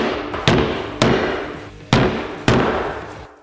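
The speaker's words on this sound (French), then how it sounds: "Alors essayons de le taper avec un marteau." A hammer strikes a hand frozen solid in liquid nitrogen, four sharp, loud impacts at uneven intervals, each ringing out and fading before the next blow, with no talk.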